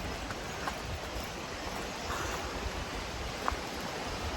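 A steady rushing roar of water carries along the forest trail to Hebbe Falls in Chikmagalur, a constant wash of noise from a waterfall somewhat ahead, with no voices.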